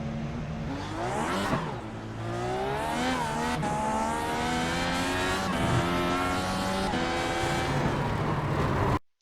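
Onboard race car engine in a racing video game as the car spins out on a curb under partial throttle, revs rising and falling in sweeping bursts with tire squeal, loud and continuous before cutting off abruptly.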